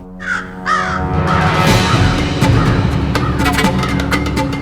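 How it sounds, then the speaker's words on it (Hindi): A crow caws loudly and close, two harsh calls followed by a sustained raspy cawing that carries on without a break, with no talking. "ये कौवा कब से काय काय किए जा रहा है।"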